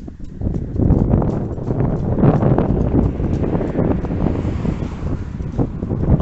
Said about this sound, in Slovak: Ale fúka vietor.